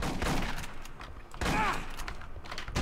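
Shotgun blasts in the Aliens: Colonial Marines video game, a couple of loud booming bursts with mechanical clatter amid busy game noise.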